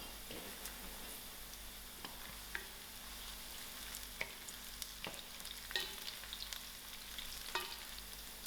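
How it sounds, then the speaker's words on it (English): Onions, garlic and dry chilies fry in a pan with a steady, soft sizzle, punctuated by scattered clicks and taps of stirring throughout. "My onions are just browning up, so I'm going to add in my garlic and my dry chilies."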